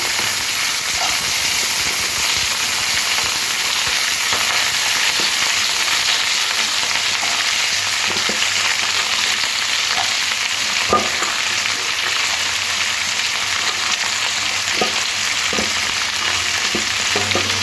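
Kohlrabi, beans, potatoes and green peas stir-fry together in a wok over a panch phoron tempering. A loud, continuous close-up sizzle hisses throughout, broken by occasional scraping and clacking as the vegetables are stirred, with no talking.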